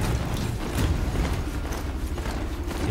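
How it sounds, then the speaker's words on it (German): Fans whir in the Horizon Zero Dawn video game, a dense, steady mechanical whirring with faint rhythmic clatter that fills the scene without any talking. "Oh, hier sind Ventilatoren."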